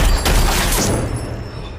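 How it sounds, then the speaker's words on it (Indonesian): Gunshots in a film scene: a loud, close burst of shots with sharp cracks, fading into a lingering rumble. "Pas si pengganti Morrison udah ditembak"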